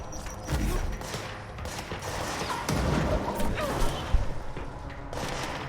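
Gunfire in the video game Control, a rattle of shots with crashes and booms over dense rumbling action, loud and cluttered, with one sharp hit near the end.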